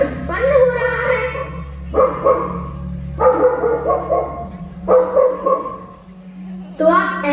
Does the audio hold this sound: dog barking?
yes